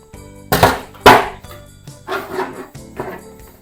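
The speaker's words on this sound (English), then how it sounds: "Back with the guillotine." A paper guillotine slices cardstock into strips, two sharp loud chops followed by two softer scraping cuts, close and with no talk.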